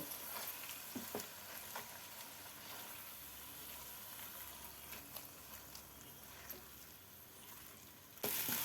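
Potato and spice mixture for egg devil frying in a pan, a steady close sizzle throughout with a few faint stirring scrapes and a louder burst at the very end.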